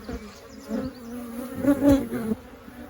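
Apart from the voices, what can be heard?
honey bees buzzing around a beehive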